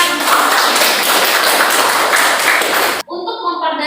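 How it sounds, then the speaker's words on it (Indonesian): A classroom of students claps together, a dense, loud burst of applause that holds steady for about three seconds before stopping abruptly, followed by a voice speaking. "Sekali lagi tepuk tangan."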